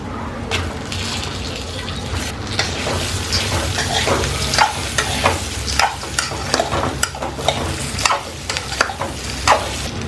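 Coconut pieces stir-fried in a pan for coconut chutney, with a steady sizzle and repeated scraping stir strokes, close and fairly loud throughout.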